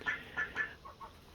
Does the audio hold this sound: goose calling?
yes